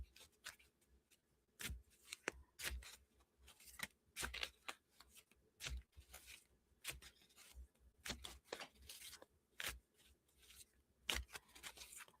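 Tarot cards are shuffled by hand in quiet, irregular bursts of soft riffling and tapping, close and faint against near silence, with short pauses between the shuffles.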